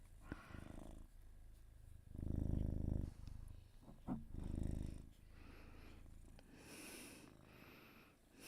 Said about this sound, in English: He has the loudest purr